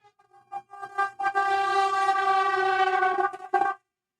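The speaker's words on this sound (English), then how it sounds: "Okay, there was a train." A train passes with its horn sounding: a short toot, then one long sustained blast lasting about two seconds, loud and clear, ending abruptly with no talking.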